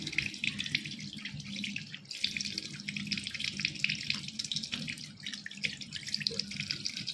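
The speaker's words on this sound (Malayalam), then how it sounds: "നല്ല തണുത്ത വെള്ളത്തിൽ ഞാൻ വാഷ് ചെയ്യുവാണ് കേട്ടോ." Cold tap water running into a sink while a face is washed, a close, steady rush of water with splashy interruptions and brief pauses as hands cup and splash.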